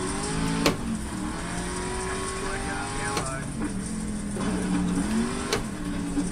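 Simulated Modified race car engine in the iRacing game drones and revs steadily around the track, with rising and falling pitch as gears shift, loud and continuous, with a voice talking briefly.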